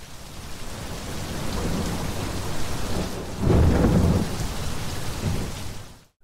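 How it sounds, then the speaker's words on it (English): Heavy thunderstorm rain with wind in the Ballyland Rotor game, a steady dense downpour with rumbling thunder swelling loudly midway before cutting off abruptly at the end. "The rain and strong wind slow him down."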